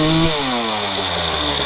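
A Honda 250R two-stroke engine revs up sharply, a loud buzzing rasp that climbs in pitch, then holds a high ringing whine, close and alone.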